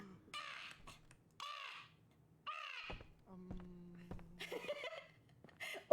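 Several harsh, raspy caws from a crow, outdoors, fairly faint and spaced over a few seconds. Quiet talk and laughter from nearby people mix in with the calls.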